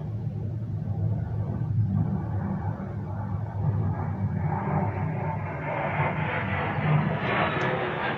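Airplanes passing overhead, a low, continuous engine rumble that slowly builds and shifts in pitch over several seconds, heard indoors with no talking.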